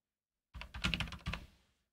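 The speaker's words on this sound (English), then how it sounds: "Can you guys hear less of the keyboard now?" A brand-new computer keyboard is typed on in a short quick burst of about a dozen close, crisp key clicks, then silence.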